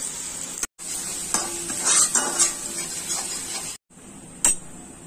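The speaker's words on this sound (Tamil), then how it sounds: "இப்போ இந்த பேஸ்ட் இதில் போட்டுருவோம் நல்ல மெரூன் கலர் வர்றது வரைக்கும் நம்மளுக்கு இதை நம்ம வதக்கணும்" Ginger garlic paste sautés in a pan for a home-style veg biryani, giving a bright, continuous sizzle with scraping stir strokes and brief breaks where the sound drops out, close and without talk.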